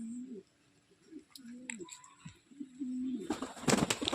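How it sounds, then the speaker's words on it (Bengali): Lotan pigeons in a pigeon house coo in a series of low, rolling calls, close and clear, before a burst of wing flapping and rustling near the end. "দেখুন কতগুলো পায়রা হয়ে গেছে"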